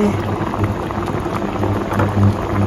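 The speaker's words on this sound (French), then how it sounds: "Ça a bien bouillé ici." A pot of fish soup with onions, tomatoes and chilli at a vigorous boil, a dense, continuous bubbling and popping, close and loud throughout.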